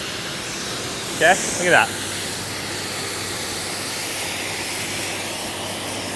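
BIGBOI WASHR FLO pressure washer rinsing a car, a steady, moderately loud spray hiss running throughout, with someone speaking briefly over it early on.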